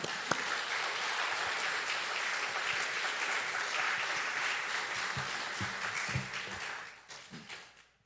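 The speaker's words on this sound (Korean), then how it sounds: "우리 제레미 목사님 나오실 때 박수로 환영하겠습니다" Congregation applause at a church service welcoming Pastor Jeremy, steady dense clapping from a large crowd that holds for about seven seconds, then thins and fades out near the end.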